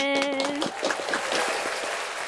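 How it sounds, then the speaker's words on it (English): A small audience claps for the producer, a brief burst of scattered close hand claps that follows a short vocal tone and fades over about two seconds. "Everyone clap for our producer,"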